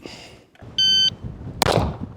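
An electronic shot timer gives one clear steady beep, then about half a second later a single sharp pistol shot rings out at an outdoor range, loud and close.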